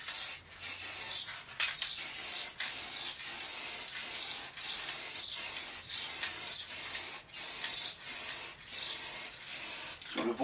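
Spray paint hisses in short repeated bursts as a third coat goes onto a Harley 883 Iron motorcycle belly pan, each pass sharp and close with brief pauses between strokes.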